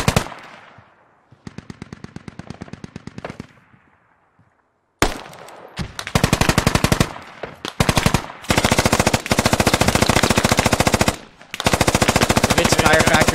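Sustained bursts of heavy machine gun fire from an HMG bunker in the Squad 40v40 military shooter game, loud and close, with long rattling volleys broken by short pauses.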